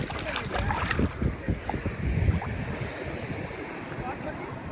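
Big sea waves rolling onto the beach at Havelock Island in the Andaman Islands, a steady broadband wash of surf with buffeting wind noise on the microphone and faint talk underneath.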